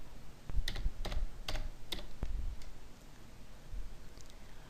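Close computer keyboard typing out a website link, a short run of crisp key clicks in quick uneven bursts that trail off into quiet room tone.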